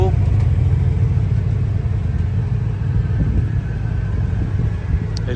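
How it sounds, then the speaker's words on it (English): A 1985 Chevy Caprice Landau Coupe idles with a steady low engine rumble, close and continuous throughout. "the car's running, so you hear a little rumble."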